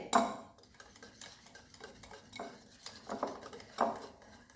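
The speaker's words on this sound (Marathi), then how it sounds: "आणि हे छान मिक्स करून घ्यायचं आहे या पद्धतीने गुठळ्या नाही राहिल्या पाहिजे ह्याच्यामध्ये" Gram flour batter for Marathwada-style kadhi is whisked in a bowl, making a series of quiet scraping strokes and light utensil clinks at close range with no talking.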